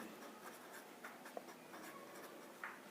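A pen scratches across paper during a maths solution, a faint, close run of short strokes and taps with no talking.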